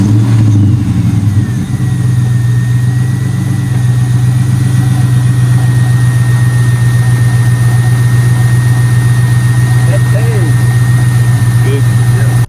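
A 2004 Mustang GT V8 fires up and settles into a loud, steady idle with a strong low rumble close by, a faint whine running above it, after a brief uneven start.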